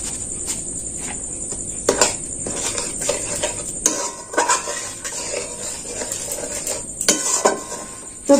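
Rice flour stirred little by little into boiling sugar syrup in a pan, heard as irregular scraping clinks of a spoon against metal over a thin steady hiss and bubbling, close by, with no talking.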